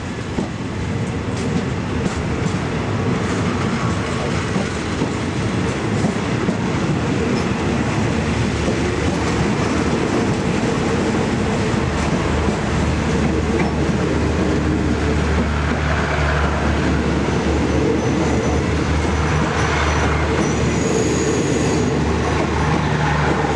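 A train at Nasan railway station in Thailand rumbles steadily and loudly throughout, with continuous wheel clatter and low rolling noise that stays near and unbroken.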